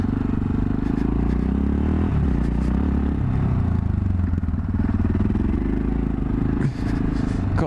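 A motorcycle rides over a steep, bumpy, heavily rippled road, its engine droning loudly and steadily throughout with rattling and clattering from the jolts.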